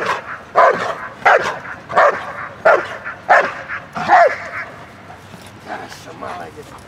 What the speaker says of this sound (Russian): Начнет лаять.